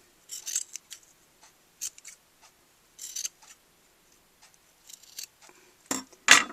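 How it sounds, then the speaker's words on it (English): Scissors snip ribbon trim for a handmade greeting card in a series of close, crisp cuts, short bursts spaced irregularly and ending in a louder final snip. "And I'll go ahead and trim that."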